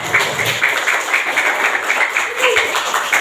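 Applause for Rara during a religious school gathering, a group clapping continuously for a few seconds with a voice talking over it.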